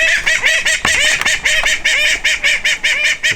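Ducks in a breeding flock quack loudly and repeatedly near a pile of wood clippings, a steady run of nasal honking calls with one short thump partway through.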